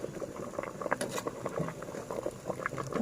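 Liquid with eggs and aromatics bubbles in a pot, a steady, moderately loud burble of small pops and splashes running throughout without any voices.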